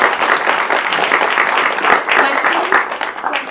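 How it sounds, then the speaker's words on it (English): Audience applause at a live talk event, loud and close, continuous dense clapping with some crowd murmur and brief vocal noise mixed in. "Round of applause for that."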